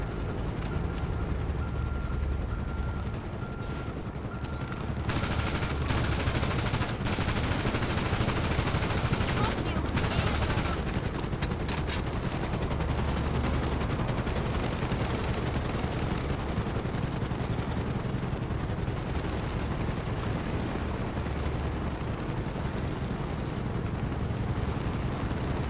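A snub-nose gun fires in the video game GTA Online amid dense, continuous gunfire and engine roar, loud and relentless throughout with little pause.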